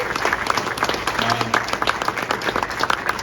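A cinema audience claps at a screening, a dense, even patter of applause from a crowd filling the room for a few seconds.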